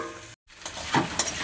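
Malabar spinach sizzling in bhetki fish oil in a pan: a constant close hiss that cuts out for a moment, then returns with a few scraping stirs.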